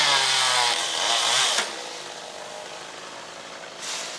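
Chainsaw cutting down trees on a residential property being cleared for solar panels, a steady loud engine whine with a load change partway through, alone without voices.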